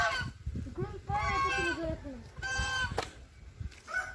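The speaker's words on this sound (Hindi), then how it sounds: "गाइस ये क्यूट बतख देखो" A duck honks repeatedly in short nasal bursts on a trek route, close by and fairly loud, with people talking over and around the calls.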